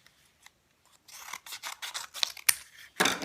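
Scissors cut through folded paper for a snowflake collage, giving a quick series of crisp snips and rasping slices up close, sparse at first and then faster and louder near the end.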